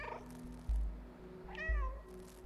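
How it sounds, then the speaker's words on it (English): Cat meowing in the video game Stray: two short, clear meows, the second rising and falling in a longer whine, heard alone over a low game hum with a couple of soft thumps. "Stuff lights up when I meow."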